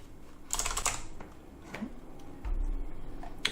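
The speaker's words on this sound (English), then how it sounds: "Just type it in here." A computer keyboard is tapped in a few short, close bursts of soft clicks against faint background noise, with no voices.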